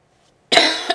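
A single harsh cough from a person, in GTA IV, bursting out loud and close after half a second of silence, followed by a shorter second hack.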